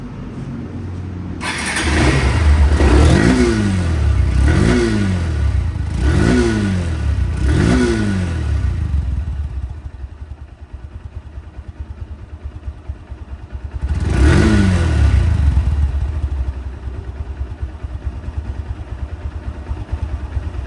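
Second-hand Honda Hornet motorcycle in showroom condition, engine revved repeatedly in quick bursts, settling to a rough idle, then one more rev before idling again; loud and close.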